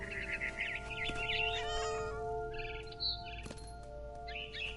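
Repeated meowing and yowling cat calls in the game What Remains of Edith Finch, over a steady electronic hum, with brief chirpy bird-like tones mixed in.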